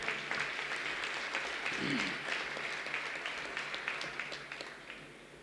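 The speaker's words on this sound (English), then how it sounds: "Let us welcome them all with a big applause." An audience applauds to welcome first-year students at Samrat Ashok Technological Institute, with steady dense clapping throughout that tapers slightly toward the end.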